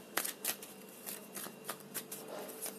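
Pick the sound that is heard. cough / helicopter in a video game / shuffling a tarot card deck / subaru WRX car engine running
shuffling a tarot card deck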